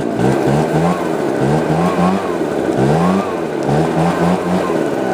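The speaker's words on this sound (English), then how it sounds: "reliable backpack leaf blower, get this one I got on me right now" A Husqvarna 570BTS backpack leaf blower engine runs loud and close, its steady roar rising and falling in pitch as the throttle is worked in repeated surges.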